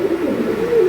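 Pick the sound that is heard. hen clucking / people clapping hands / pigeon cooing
pigeon cooing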